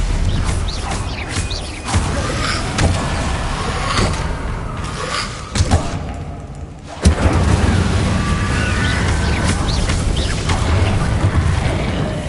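Bombarda spell explosions in Hogwarts Legacy, repeated heavy booms and crashes amid a dense, loud battle din, with a sharp blast near the middle.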